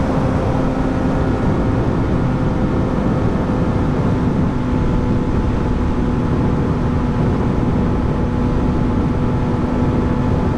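Motorcycle on a warm day, steady engine drone with constant broadband wind rush against the helmet, loud and continuous throughout with no pauses or talking.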